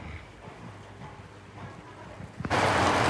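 A heavy downpour starting outdoors, quiet at first and then breaking into a loud, dense, steady rush of rain during the last second.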